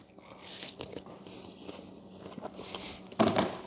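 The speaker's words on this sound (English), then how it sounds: "Let me see if this watermelon is sweet first, bro." A person bites into a piece of watermelon close to the mic, with crisp crunching bites and chewing scattered across a few seconds and a louder crunch near the end, no talking.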